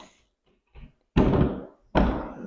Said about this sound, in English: what I do is I stick the door in position.